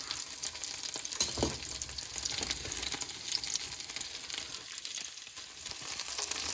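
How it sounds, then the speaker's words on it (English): Kubbah patties searing in a frying pan, a steady soft sizzle with faint crackle running throughout, one brief louder pop early on, no voices. "It doesn't work to deep fry them, but you can pan sear them."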